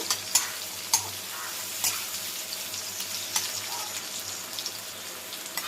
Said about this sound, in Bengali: পেঁয়াজটা একটু ভেজে নিলাম।